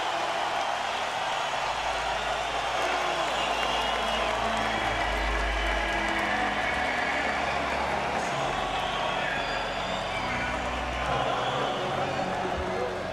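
A crowd at a mixed martial arts event roars continuously before a fight, a dense, loud wash of cheering with a commentator talking over it.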